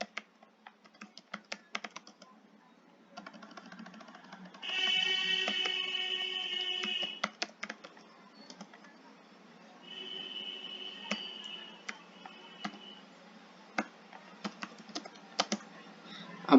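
Computer keyboard keys clack in quick irregular bursts as Java code is typed, close and fairly quiet, with brief electronic tones in between.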